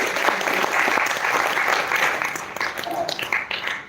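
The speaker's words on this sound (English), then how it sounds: "can you give yourself a big round of applause?" Audience at an entrepreneurship certificate course claps for themselves, loud, dense, steady applause from a roomful of people that thins slightly toward the end.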